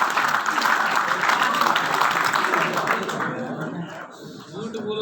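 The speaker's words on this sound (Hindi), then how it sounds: "बहुत जोरदार ताली आपके लिए।" Loud crowd clapping at a Hindi-language seminar, dense and continuous for about three seconds before tapering off, with some voices mixed in.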